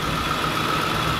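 A car engine running close by on a street during a student strike protest in Québec, a steady mid-pitched rumble with a faint whine, no voices.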